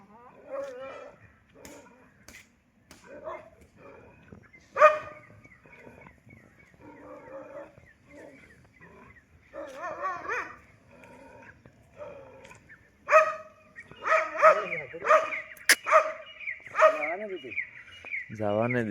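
Several dogs bark and yelp excitedly at moderate distance during a scuffle with two pigs, with grunting and scattered animal noise in a busy outdoor setting, and louder bursts near the end.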